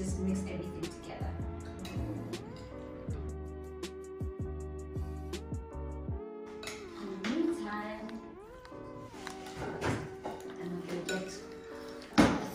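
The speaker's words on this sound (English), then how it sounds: "is just mix everything together" A spoon scrapes and clinks in a bowl as a vegan salad with spring onions is gently tossed, giving soft intermittent clatter under quiet talking, with a louder knock at the end.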